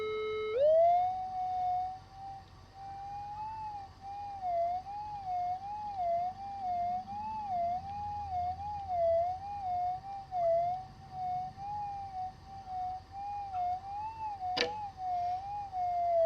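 A steady electronic target tone from a metal detector with a 30-inch carbon-fibre search coil warbles continuously around one pitch, loud and close, with a brief sharp click near the end; no talking.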